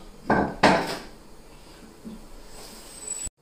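A lid clattering onto a cooking pot of Guianese calalou set to simmer over low heat, two quick metallic clanks close by followed by a soft scrape and quiet kitchen noise.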